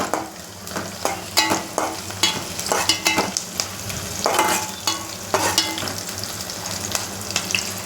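Sliced onions softening in a pan over low heat give a continuous close sizzle, broken by repeated scraping and clattering strokes of a spoon stirring them.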